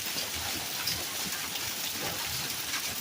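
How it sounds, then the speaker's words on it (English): Heavy rain falls during a brief summer storm in Colorado, a dense, steady hiss of drops on surfaces with no voices. "Never seen this much rain before in Colorado."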